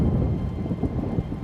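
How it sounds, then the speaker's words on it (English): A loud, close thunderstorm with heavy rain pouring down and deep rumbling thunder rolling steadily throughout, no voices. "It's a crazy big storm, okay?"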